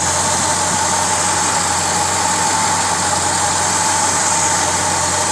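A 1969 Pontiac LeMans V8 idling low after an HEI ignition swap, with vacuum advance disconnected and timing at zero degrees initial; a steady, continuous engine drone heard close up with no talking.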